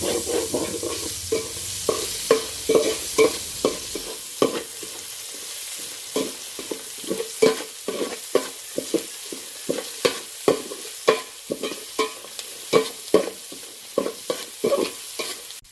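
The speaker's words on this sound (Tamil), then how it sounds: "வெங்காயம் நல்லா பொன்னிறமாக வேகிற வரைக்கும் வதக்கிக்கலாம்." Sliced onions sautéing in hot oil for fish biryani, a steady sizzle with rhythmic scraping strokes of a spoon stirring the pan, close and alone without talk.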